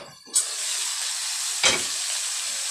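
Halved whole chicken frying in hot oil, a steady loud sizzle that bursts up as the meat goes in and flares again briefly midway, close and continuous with no talk.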